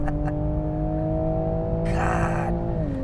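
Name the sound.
2020 Toyota GR Supra engine revving and exhaust pops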